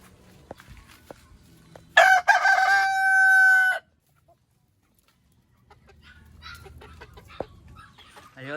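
Pet chickens' rooster crows once loudly and close by for about two seconds, then goes quiet, with faint farmyard clucks and rustling around it.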